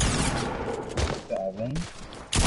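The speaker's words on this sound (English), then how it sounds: "Somebody just shot a grenade on him, bro." Rapid bursts of gunfire and explosive thuds from a PS4 shooter game, loud and dense, mixed with a voice talking over the action.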